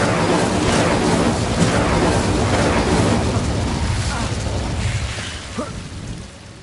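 A roaring fire spell blazes for several seconds in the Hogwarts Legacy video game, a dense crackling rumble that slowly fades out at the end, with a voice briefly heard over it.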